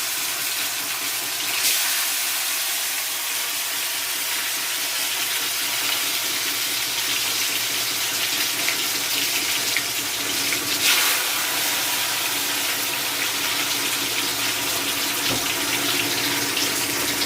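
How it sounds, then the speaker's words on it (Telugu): Fish pieces frying in oil over a low flame, Andhra-style fish fry, a steady continuous sizzle and hiss that runs unbroken throughout with no talking. "చూసారు కదా అట్లాగా ఫ్రై చేస్తున్నాము."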